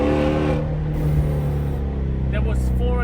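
A straight-piped Ford Mustang GT350 engine drones loud and steady with harmonic rumble close by, while a voice talks over it.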